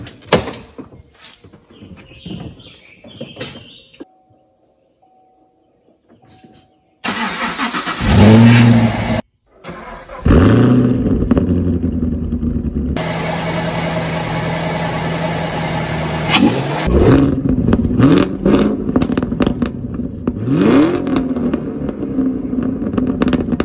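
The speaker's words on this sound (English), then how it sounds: "So let's turn the key, press the button, if you will, and let's get this thing started." A 6th gen Camaro SS LT1 engine swapped into a BMW E-Series cranks and fires after a quiet start, settling into a loud steady idle with a few revs rising and falling, heard close up and alone.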